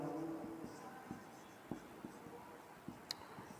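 Pen or pencil writing by hand in a notebook while working a subtraction sum, a faint steady scratching with a few soft taps, quiet and close with no talking.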